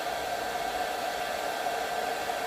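A hair dryer blowing while drying hair, a constant loud broadband whoosh with an even, unchanging hum and no other sounds.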